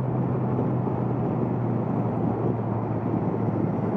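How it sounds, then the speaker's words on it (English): A motorcycle with its stock exhaust ridden on roads in Derbyshire: a steady, loud, continuous engine drone mixed with rushing wind, constant throughout with no voices. "And it's got the stock exhaust on, and it still sounds absolutely awesome"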